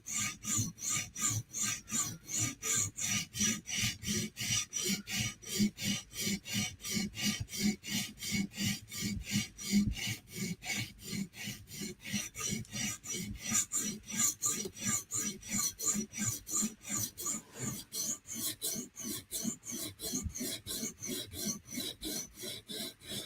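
A knife blade is drawn over a sharpening stone in fast, even back-and-forth strokes, close and crisp, repeating steadily without pause.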